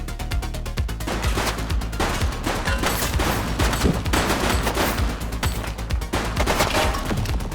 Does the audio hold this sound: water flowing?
no